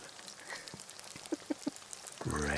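Rain patters steadily with a few distinct drops hitting a surface, soft and close, before a louder sizzling sound swells in at the end.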